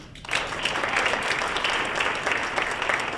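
Audience applause at a 2003 awards dinner in Secaucus, New Jersey: dense, steady clapping from a roomful of people bursts in after a brief quiet moment and carries on loudly and evenly throughout.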